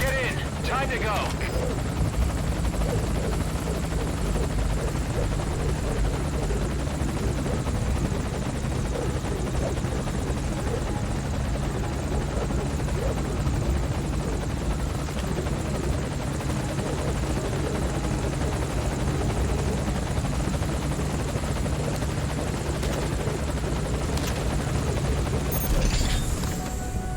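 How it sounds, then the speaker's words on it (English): A helicopter idles at a landing zone in Metal Gear Solid V, its steady rotor drone and engine whine filling the scene continuously and loudly, with faint bursts of distant action underneath. "Put the target on the chopper."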